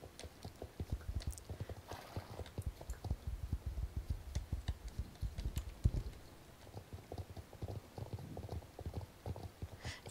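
Horse hooves clip-clop in a steady, rapid rhythm throughout while riding in the video game Star Stable Online, with faint clicks mixed in.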